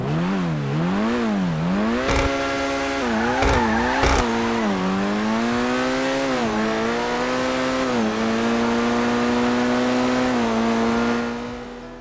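A Cheval Taipan supercar, modeled on the Hennessy Venom F5, is driven in GTA 5. Quick rev swells give way to a loud, rising engine whine through several gear shifts, with brief thuds partway through and a fade at the close.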